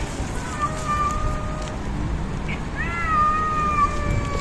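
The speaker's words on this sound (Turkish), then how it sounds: "Kadim kedilerim." Cats meow twice, with a drawn-out mew early on and a longer, rising-and-falling meow later, both close and clear over a low background rumble.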